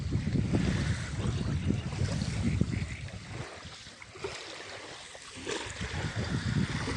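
Wind buffets the microphone on the shore of the Kakhovka reservoir while waves wash in steadily, a broad, rushing roar that dips briefly in the middle and then builds again.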